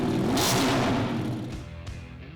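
A 2025 Ducati Panigale V4S race bike revs loud and close, a sustained rasping engine roar that swells and then falls away into a lower idle burble, with no one speaking.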